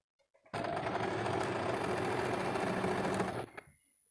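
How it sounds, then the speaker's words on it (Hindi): A sewing machine stitching a dress lining runs in one continuous close, loud burst of about three seconds, its rapid mechanical chatter starting and stopping abruptly, with faint handling clicks before and after. "फिर अब इसके ऊपर लाइनिंग की सिलाई कर लेते हैं।"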